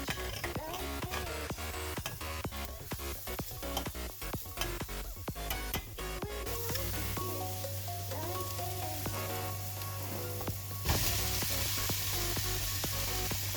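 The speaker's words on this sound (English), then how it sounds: "I want the garlic to cook and not to burn out too much." Fresh garlic sizzles in a hot pan for a creamy shrimp and mushroom penne, a steady frying hiss running throughout with tonal sounds layered over it and a brighter, louder burst of sizzle near the end.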